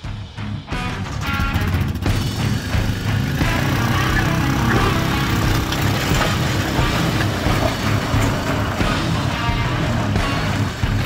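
A vehicle engine drones steadily and fairly loud as it drags an Enticer motorcycle in, with a rough, continuous rumble and no talking.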